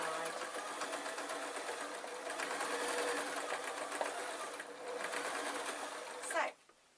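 A sewing machine runs steadily while stitching a tweedle muffler made of fabric with canvas-like rope, a continuous rapid mechanical whir at close range that stops abruptly near the end.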